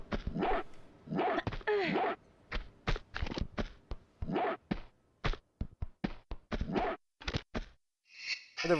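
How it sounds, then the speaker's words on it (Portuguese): A dog barks repeatedly in the game Tomb Raider II Gold, bursts of loud, close yelps and barks broken by short silences. "Cadê você, cachorrinho?"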